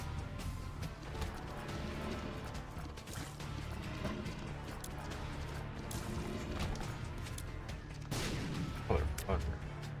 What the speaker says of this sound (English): Everything's fucking exploding.